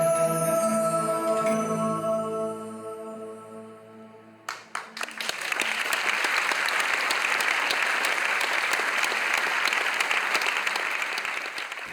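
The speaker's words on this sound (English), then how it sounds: "Astana Ballet team won a storm of applause." A London theatre audience applauding the Astana Ballet, a sustained, loud wall of clapping that bursts in after fading music and carries on without letup.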